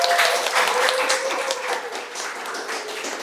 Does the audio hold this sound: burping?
no